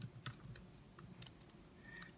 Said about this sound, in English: Type those in.